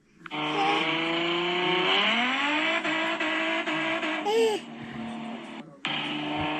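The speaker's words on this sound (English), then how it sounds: "hearing a 350Z bounce off rev limiter with nitrous" A Nissan 350Z on nitrous screams at full throttle, holding a steady, loud, high-pitched engine note that stutters against the rev limiter in rapid cuts, with a brief dip and a squeal before the roar resumes.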